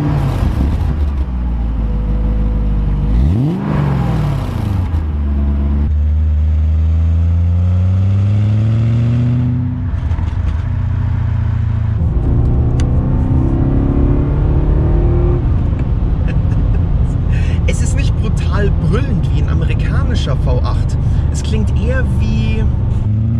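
An Alpina B8 engine revs and accelerates through several gears, rising pitch sweeps repeating, loud and close, with road noise and people talking over it.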